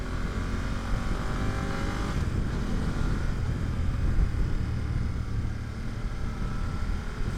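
A 2025 BMW F900GS Adventure motorcycle rides through winding twisty roads, its engine droning steadily under heavy rushing wind noise with a slight rise and fall in pitch.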